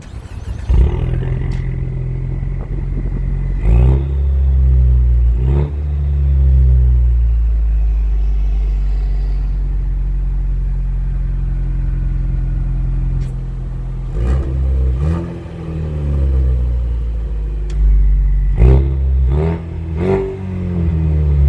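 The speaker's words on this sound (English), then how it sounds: "the vehicle is equipped with the active valve performance exhaust" A 2020 Ford Mustang EcoBoost with active valve performance exhaust rumbles deeply and revs up several times, the exhaust swelling and dropping back to a throaty idle, close and loud.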